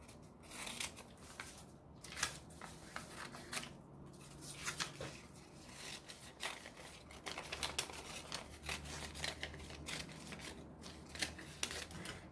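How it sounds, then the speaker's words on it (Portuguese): Pattern paper for a dress being cut with scissors, continuous close crisp snipping and crinkling of paper with rustling handling throughout, no talk. "Eu passo para outro papel, eu vou só cortar."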